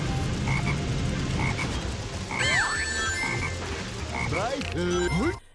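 Poison-looking frog enemies croak in the jungle stage of the video game Sonic Heroes, giving repeated sweeping croaks over dense game music and effects, loud and close, with a burst of several croaks near the end.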